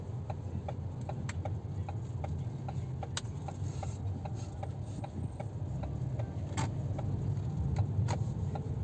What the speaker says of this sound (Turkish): Şuradan bir dönüş yapalım. Sinyalimizi verelim.